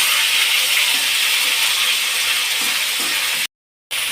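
Ginger paste and cumin frying in hot oil, a loud steady close sizzle with a brief cut to silence near the end.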